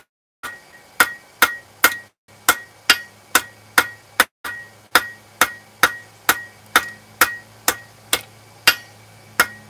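A hammer forges a steel rod down from eight sides toward round, ringing metallic blows struck in steady bursts of three or four, loud and close with brief pauses between sets.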